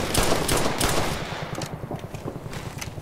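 Machine gun fire in the Operation Flashpoint: Red River military shooter game, rapid rhythmic bursts of close, loud shots, heavy at first and then thinning into quicker, lighter rattling.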